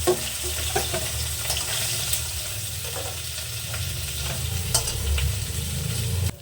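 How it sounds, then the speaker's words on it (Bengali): Fish fries in a wok with a continuous close sizzle and crackle, broken by occasional clinks and scrapes of stirring. "মাছটা ভাজা হয়ে গেছে"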